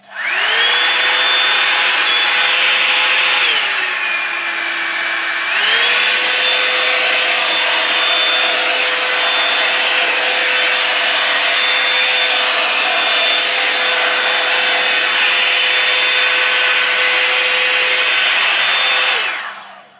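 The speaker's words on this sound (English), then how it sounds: "I'm gonna see how the dryer works." A hair dryer runs continuously with a steady whine while drying a boy's box-braided hair, its pitch dropping briefly as if switched to a lower setting, then returning; close and loud, no talking.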